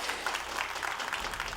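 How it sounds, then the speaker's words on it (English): Crowd at a World of Tanks esports semi-final, Kazna Kru versus Utopia, applauding and cheering in a steady wash of clapping throughout. "we can hear the crowd even here cheering"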